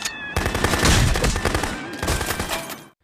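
Gunshots ring out in a film scene as a dense, loud volley of sharp cracks in quick succession, with a short pause midway, then another burst before an abrupt cut to silence.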